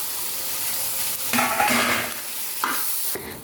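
Chopped tomatoes are stirred into onions frying for a chicken curry, a steady close sizzle broken by spoon scrapes and pan knocks, the sizzle briefly swelling as the tomatoes go in.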